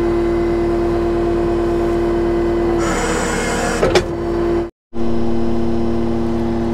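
Skid steer engine idling with a steady close drone and a constant whine, briefly rising and rattling louder as it works, then cutting out for a moment before resuming, no talk.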